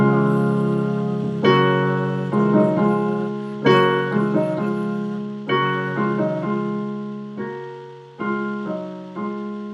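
Piano plays a steady left-hand bass pattern under sustained right-hand chords, moving through several changes at an unhurried pace with no voices.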